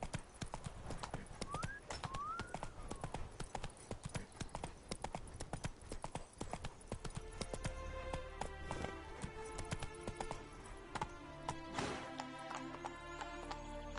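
A horse gallops with a fast, continuous clip-clop of hooves in The Witcher 3 video game, with a brief whinny early on and a rumble of background game sound building later, with no talk.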